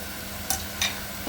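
Powdered spices (coriander-cumin powder, garam masala, red chilli and turmeric) are stirred into ragda in a pan, giving two brief scraping strokes over a low steady background.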